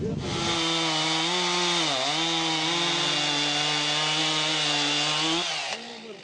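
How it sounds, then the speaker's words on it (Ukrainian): Gasoline chainsaw running at high, steady revs as it cuts through a log, loud and close for several seconds with a slight dip in pitch midway, then easing off at the end. "Ну, поїхали, попробували, провірили бензопилу."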